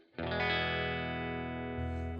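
A clean electric guitar chord through an Electro-Harmonix Hot Wax dual overdrive pedal, bypassed, rings out and sustains, bright and clear without distortion, then a lower note is added near the end.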